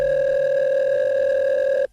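A steady, continuous telephone dial tone hums loud and alone for nearly two seconds, then cuts off abruptly just before the end, as someone in a room places a phone call.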